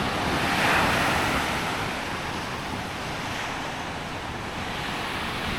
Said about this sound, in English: Our very own private beach.